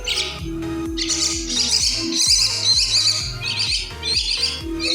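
Baby birds chirp close by in a busy, overlapping chorus of quick tweets and calls that repeats rapidly without pause, with no other sounds.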